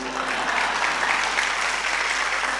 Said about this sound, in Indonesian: tepuk tangan, nggak usah malu-malu